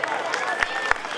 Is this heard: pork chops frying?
no